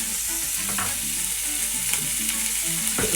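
Bacon sizzling and crackling steadily in an oven-proof pan, a continuous close frying hiss with a few brief stirring knocks, no voices.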